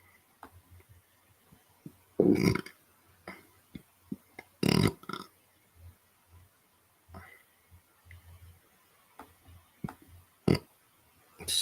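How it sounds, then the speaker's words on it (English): A man belches several times in short loud bursts, with a couple of bigger, longer burps standing out among smaller ones in an otherwise quiet room. "Excuse me, sorry about the belching."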